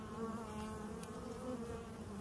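Bees at a beehive, a dense, steady buzzing drone from many insects close by, continuous and even with no voices over it.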